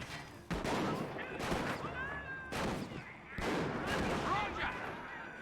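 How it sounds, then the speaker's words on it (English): Bren squad machine gun fire in Company of Heroes, the British gun crew loosing repeated bursts amid battlefield din, loud bangs and clattering volleys, with a voice talking over parts of it. "Bren squad firing away."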